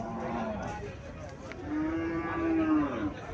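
A Friesian dairy cow gives a drawn-out, fairly close moo that rises and swells in the second half, with soft background noise and no talking.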